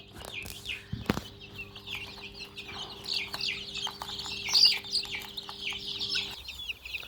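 Young Thai native chickens and chicks on a farm cluck and peep in a quiet, continuous chatter of soft calls, with a faint steady hum behind and one brief knock.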